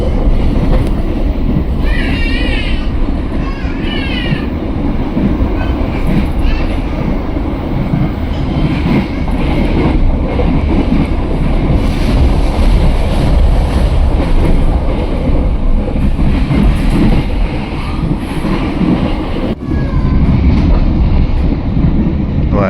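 Steady loud rumble and rattle from inside a KA Motis train passing straight through Kosambi station, continuous wheel and carriage noise with faint brief squeals near the start.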